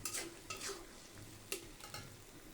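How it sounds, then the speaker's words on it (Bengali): Onion paste frying and being stirred in a pan for a home-style biryani, with a soft continuous sizzle broken by occasional scraping stir strokes, quiet and close. "আর এখন পেঁয়াজ বাটাটা দিয়ে দিলাম। এগুলো ভালো করে ভেজে নেব।"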